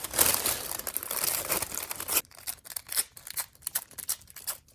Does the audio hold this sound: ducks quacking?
no